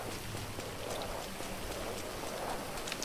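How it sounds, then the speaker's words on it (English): Steady rain in GTA 5 Online hisses evenly throughout, a soft continuous patter with scattered drops, no voices. "It's raining!"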